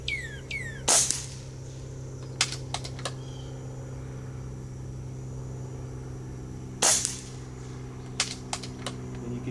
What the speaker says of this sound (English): I'm going to be shooting at the left target, the bigger one, and you'll see the holes appear in it.